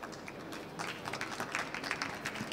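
Audience applause at a talk on home interventions in energy-poor households, a broad mid-level wash of hand claps building after the first second and holding steady without voices.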